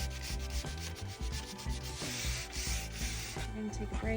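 Rhythmic rubbing strokes of sandpaper on a wooden dresser, repeating steadily over background music.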